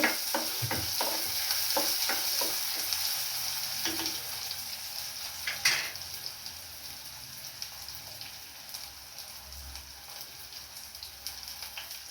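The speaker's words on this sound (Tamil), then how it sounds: "வெங்காயம் நல்லா வதங்கட்டுக்கும்" Onions sauté in a hot pan with a continuous close sizzle, punctuated by scraping stirs early on, with no talk.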